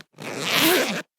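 A zipper is pulled closed in a single quick, close, rasping stroke of about one second, with no other sound.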